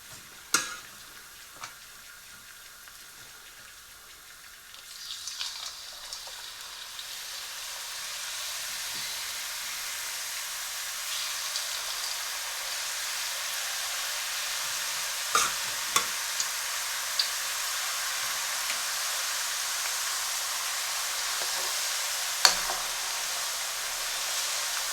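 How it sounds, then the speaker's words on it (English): Thin potato slices for homemade crisps fry in hot oil, making a steady, close sizzling hiss that swells after a few seconds and then holds, with a few small pops along the way. "so I'm just going to gently add some of the potato now."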